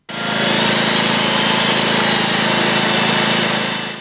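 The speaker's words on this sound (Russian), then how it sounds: "При помощи специального оборудования рабочие выпиливают в новом асфальте три пробы длиной порядка 20 сантиметров" A power saw cuts core samples out of freshly laid asphalt, producing a loud, steady grinding whine with a low hum that runs unbroken from start to finish.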